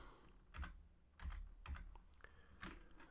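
Fingers type on a computer keyboard in a quiet room, with a quick, uneven run of soft key clicks and a few heavier taps, and no talking.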